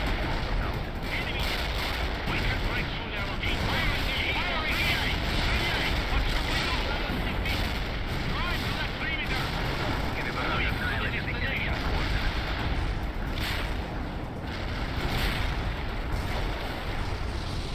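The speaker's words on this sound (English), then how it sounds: "Preemptive artillery." Artillery barrage in the video game World in Conflict, a dense continuous rumble of booming fire and mechanical noise filling the whole stretch, with a voice talking over it.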